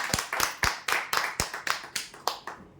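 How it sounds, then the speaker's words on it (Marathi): A small gathering at a prize draw clapping for a winner, about a dozen distinct, sharp claps in a loose, uneven rhythm, close and fairly quiet, tapering off at the end. "जोरदार टाळ्या होऊ द्या"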